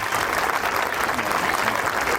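Audience applauding teachers at a school prize distribution, a steady, dense wash of clapping from a large crowd lasting throughout.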